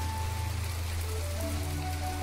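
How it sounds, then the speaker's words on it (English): Rain falls during a thunderstorm in the video game My Time at Portia, a soft, steady patter alongside faint sustained musical tones, with no voices. "So we've woken up today and there's a thunderstorm, which is just wonderful."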